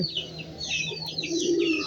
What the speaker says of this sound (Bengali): বাচ্চা কবুতর, বড় হচ্ছে।